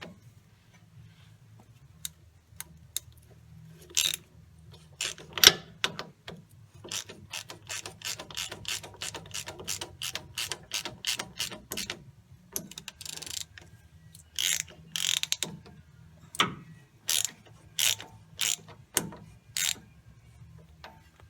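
Ratchet wrench tightening a bolt on a 2010 Chevy Silverado CV axle: rapid clicking runs of the pawl in bursts, with short pauses and a few metallic knocks, close and clear with no talking.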